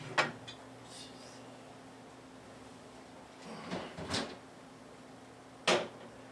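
An oven door is opened in a home kitchen while a chicken and zucchini casserole bakes, heard as a few separate clunks and clicks at close range, with quiet pauses in between and a steady low hum underneath.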